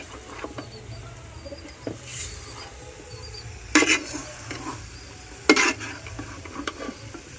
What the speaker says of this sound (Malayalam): പുളി വല്ലാതെ ഇല്ലാത്ത തൈര നമ്മുടെ ചേർത്തിട്ട് നമുക്ക് ഇളക്കാം.